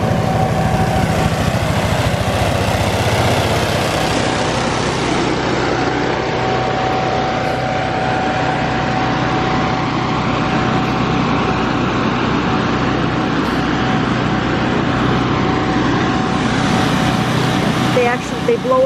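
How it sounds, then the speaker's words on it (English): A cranberry harvest blower runs steadily along the grass line of a bog, a continuous loud engine drone with a faint whine that persists under someone talking throughout. "Where that blower there, they actually blow along the grass line here."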